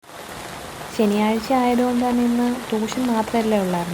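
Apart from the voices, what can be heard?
heavy rain falling outside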